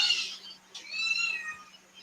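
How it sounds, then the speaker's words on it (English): Indoor house cats meow in a few drawn-out, plaintive cries, moderately close, with a quiet pause between them and a steady low hum beneath. "I apologize if my cats start screaming."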